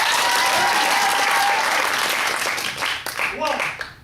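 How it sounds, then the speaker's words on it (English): A theater audience at a comic Shakespeare stage show bursts into loud, full applause that fades after a few seconds, and a performer's voice comes in as the clapping dies down. "Can we get a round of applause for that?"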